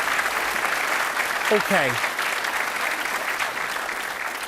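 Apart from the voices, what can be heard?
studio audience applause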